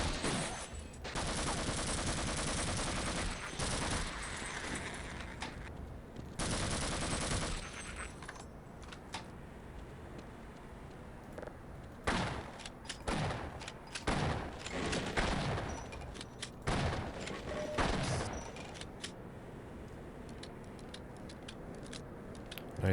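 Rapid bursts of gunfire from the video game Half-Life, dense and loud in long stretches with brief pauses, then sharper separate shots and scattered impacts toward the end.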